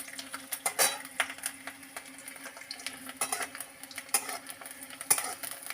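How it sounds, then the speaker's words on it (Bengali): Garlic cloves stirred in hot oil in a pan on a lowered gas flame, with light clinks of a spoon against the pan and a faint steady sizzle, close and without talk. "রসুনগুলো দিয়ে একটু নাড়াচাড়া করব"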